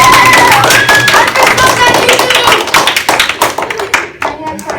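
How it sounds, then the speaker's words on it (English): An audience clapping in a middle school classroom during a wellness lesson staged as a game show, loud and close, thinning into scattered claps and taps as a voice talks over it. "No, please hold your applause."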